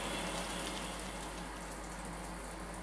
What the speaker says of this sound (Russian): Душ.